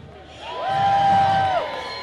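Protest crowd at a Just Stop Oil rally cheering and whooping, a short swell of shouts that rises and fades over about two seconds, heard from within the gathering.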